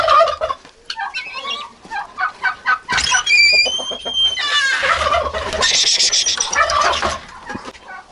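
Brooding hens, including a Cochin hen, and a turkey hen sitting on eggs in a poultry house give close, loud clucks, gobbling calls and shrill squawks in irregular bursts, with no talk.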